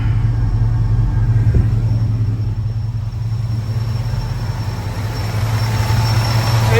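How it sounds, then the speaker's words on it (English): A Ford truck engine idles steadily with the AC clutch engaged and turning, a continuous close low hum and rumble with no talking. "AC clutch is turning."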